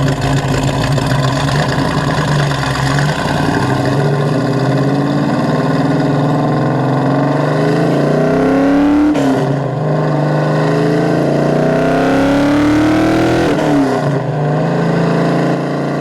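A 1973 Dodge Challenger engine idles with a steady low rumble, then revs up twice in rising sweeps, loud and close, with no talking.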